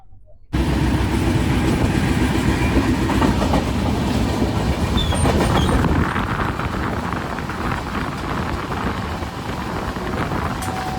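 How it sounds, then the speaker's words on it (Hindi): The 12295 Sanghamitra Express runs fast on the rails at about 130 km/h, giving a loud, steady rumble with rhythmic clickety-clack and wind rushing past, heard from on board. "अभी आप देख सकते हैं कि ट्रेन लगातार 130 चल रही है।"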